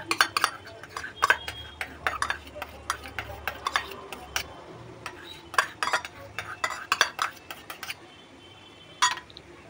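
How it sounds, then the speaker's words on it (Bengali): A spoon stirs curry masala in a pan after sour yogurt goes in, making repeated clattering taps and scrapes against the metal, busy at first and thinning out, over a faint sizzle. "টক দইটা দিয়ে কিন্তু আবার একটু নাড়িয়ে নেব।"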